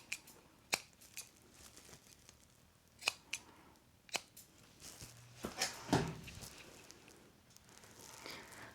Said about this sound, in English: I'm just gonna clip down the sides here. Not the sides, but the corners.